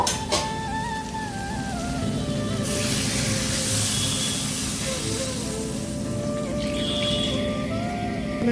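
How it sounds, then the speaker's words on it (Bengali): Water poured into a pan of frying pumpkin, potato and prawn curry, setting off a steady, loud hiss and spray of steam that continues unbroken for several seconds. "জল দিয়ে দেব।"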